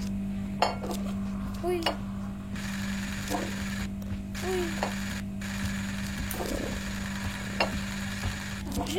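In the VR game I Am Cat, an unbreakable plate clatters and clinks in a few brief knocks over a steady hum, with light chatter around it.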